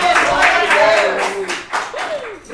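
A church congregation claps at the altar during a Holy Communion service, the dense applause running under a voice speaking over it.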